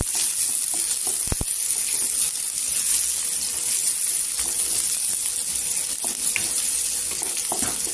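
Onion sizzles loudly in a hot pan with cumin and curry leaves, a dense steady frying crackle with a couple of sharp metallic clinks from stirring, no talking.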